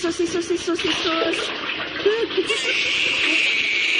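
Water is poured over a baby during a bath in a radio drama, a steady, splashing gush of water under a voice speaking, with a voice briefly audible.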